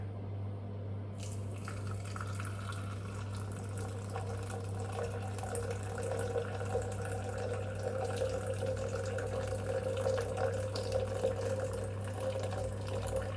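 Water pours steadily from a tap or kettle to measure 250 ml for a coffee plunger, a soft continuous trickle that grows a little fuller toward the end, close and quiet, with no talking.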